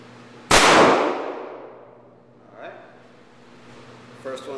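A single shot from a .357 revolver firing a light reloaded powder charge, one sharp loud report with a ringing decay, followed by faint metallic handling noises.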